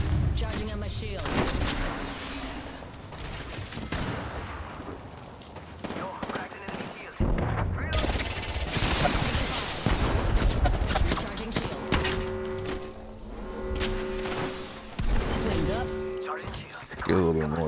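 Gunfire in an Apex Legends Arenas ranked match: loud rapid automatic bursts and single shots that come and go across the stretch, mixed with in-game effects and a player talking over it.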